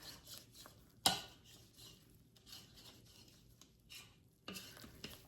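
A mixture is stirred by hand in a pot, with soft scraping and rubbing strokes, one sharp clack near the start and a brief knock toward the end, all fairly quiet with no talking.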